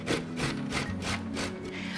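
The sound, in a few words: grating potato skins into a latke mixture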